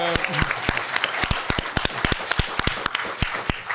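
An audience at a university debate event gives the panelists a round of applause, a steady crowd of clapping with sharp individual claps standing out, close and continuous.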